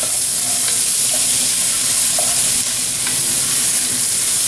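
Steak sizzles steadily in a hot frying pan as it is stirred, a continuous close crackling hiss broken by occasional soft scrapes of the utensil against the pan.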